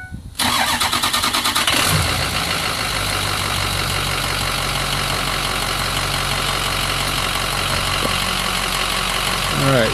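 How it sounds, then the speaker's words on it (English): Ford Super Duty pickup truck with a 5R110W transmission cranks briefly and fires up, then settles into a loud, steady idle rumble that continues close by without talk. "Let me go ahead and start up the truck here."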